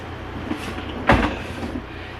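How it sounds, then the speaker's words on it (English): A drawer in a small, cramped room slides shut with one short, close thud, alone against a quiet background hum. "My washi tape I'm going to put back in the drawer where I was keeping it."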